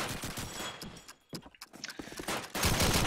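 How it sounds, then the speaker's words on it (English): Bursts of rapid gunfire in a Call of Duty 2 match, several short volleys with brief quiet gaps, fairly quiet and clipped, with a heavier burst near the end. "As Obi will shoot him down below the tank."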